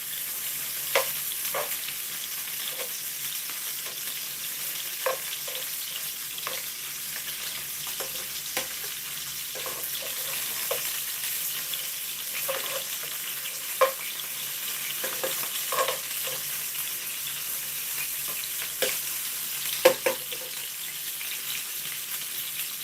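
Steak for a steak and stilton pie browns in a hot pan, giving a steady broadband sizzle broken by occasional scrapes and stirs, loud and continuous with no talking.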